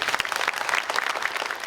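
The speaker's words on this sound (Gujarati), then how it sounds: "બધા સંગીતકારો અને કલાકારોને તાળીઓથી વધાવી લઈએ" An audience at a classical dance debut performance claps steadily for the musicians and artists, a dense, moderately loud patter of hands throughout.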